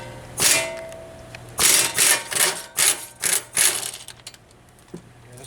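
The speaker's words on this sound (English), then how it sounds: "you can do it with a ratchet and your size 17 socket" Hand ratchet with a 17 mm socket loosening brake caliper bolts on a 2009 Hyundai Genesis, a series of about six quick scraping ratchet strokes in rhythm, close and fairly loud, with no talking.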